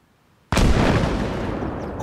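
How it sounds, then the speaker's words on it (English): Satchel charge detonation in the video game Arma Reforger DayZ mod, blowing a concrete base wall: one sudden, very loud close blast after half a second of quiet, followed by a long rumbling decay. "Holy shit, bro, that explosion."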